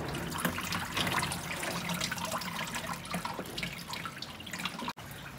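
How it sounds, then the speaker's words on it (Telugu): Water poured into the rear tank of a Tata Voltas JetMax 54L desert air cooler, a steady close splashing and trickling that runs almost continuously, with a brief break near the end. "వాటర్ని అయితే బ్యాక్ సైడ్ నుంచి ఫిల్ చేయాలి."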